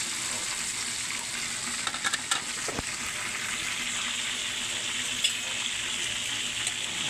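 Cabbage and tilapia fry together in a pan, giving a steady broadband sizzle with a few soft clinks and stirring knocks partway through.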